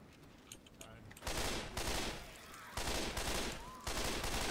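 Automatic gunfire in Left 4 Dead 2 comes in long, loud sustained bursts separated by brief pauses, with faint voices underneath.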